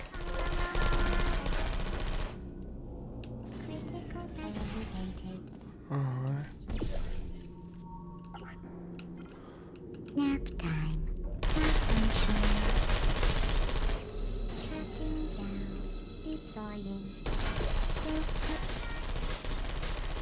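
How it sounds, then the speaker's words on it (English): Turret machine-gun fire in the game Portal 2, coming in dense rapid bursts with gaps between them, loud and close, with electronic tones and game sounds in the quieter stretches. "This next test involves turrets."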